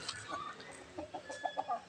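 Faint clucking and short calls from chickens, a few scattered bursts against a quiet background.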